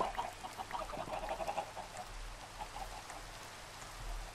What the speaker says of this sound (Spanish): Pero digo que no me gusta la lluvia, al menos no de día, porque aparecen más criaturas.